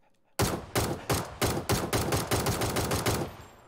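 Rapid bursts of ACE32 rifle fire in PUBG, about eleven sharp shots in steady rhythm, loud and close with no talk over them.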